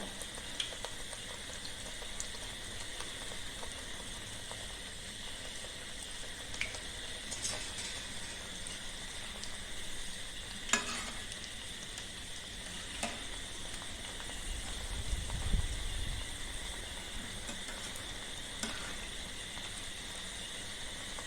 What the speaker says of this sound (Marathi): गोल्डन कलर येईस तोपर्यंत आपण त्याला तळून घेऊया